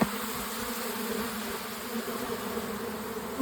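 A dense, steady buzz of many honeybees fighting at a hive entrance swarms close by, a continuous droning hum with no voices.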